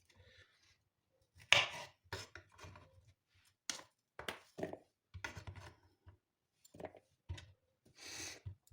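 Close knife strokes cut dill on a cutting board for a lettuce salad, coming as scattered quick chops and short runs with gaps between them, no voices.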